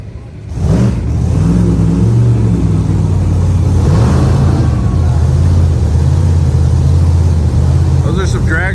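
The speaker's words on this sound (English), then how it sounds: "Those are some dragsters that started up behind me." Drag-racing dragsters start up and idle nearby, a loud, rough, rumbling engine drone that surges in after a moment and holds steady with occasional revs, with someone talking over it.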